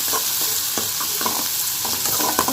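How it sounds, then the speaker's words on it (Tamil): Onions sautéing in a hot pan with mustard seeds for carrot poriyal, giving a loud, continuous close sizzle broken by several quick stirring scrapes. "வெங்காயம் நல்லா வதங்கணும் நல்லா வதங்கட்டும்"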